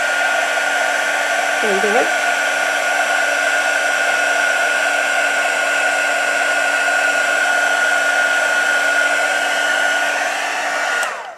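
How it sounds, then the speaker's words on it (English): Heat gun blowing on orange and green crackle paint, a loud continuous whooshing roar held for several seconds before switching off at the end, with a brief spoken remark early on. "just go back in with your heat gun and you'll capture it"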